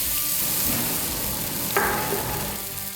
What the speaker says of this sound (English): we're gonna go ahead and get these onions in there. We got the onions and garlic in one. Get these peppers in there.